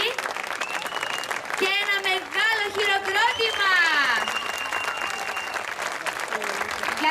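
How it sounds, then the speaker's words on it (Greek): A crowd applauding steadily throughout at a kindergarten show, with voices and a sliding, whistle-like tone rising above the clapping. "ένα μεγάλο χειροκρότημα"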